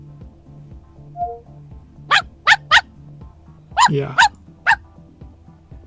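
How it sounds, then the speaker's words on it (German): A dog barking, played back by the Cortana voice assistant: a run of short sharp barks, then a yelping whine and another bark, loud and close, with a brief spoken word before them. "wie macht der Hund?"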